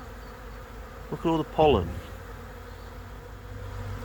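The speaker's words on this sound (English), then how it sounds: "Look at these bees." A continuous buzz of many honeybees fills the background while a person speaks briefly over it.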